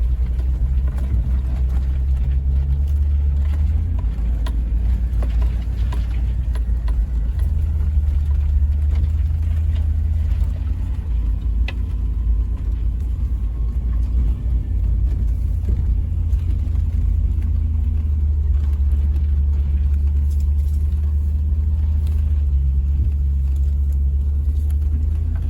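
Land Rover trucks crawling along an off-road green lane near Mendocino, California, with a steady low engine rumble and drone throughout, close and continuous with only slight shifts in pitch as they drive.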